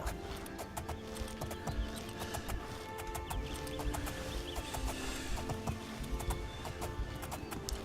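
Horse hooves clip-clop steadily in Elder Scrolls IV: Oblivion, a continuous trotting rhythm heard close and moderately loud over ambient game background with faint bird calls.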